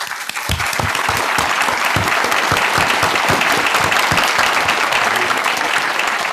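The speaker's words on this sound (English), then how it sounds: "Let's give a warm round of applause to welcome our most honorable Supreme Master" A crowd gives a warm, sustained round of applause to welcome Supreme Master Ching Hai, with thick, even clapping that holds steady from start to finish.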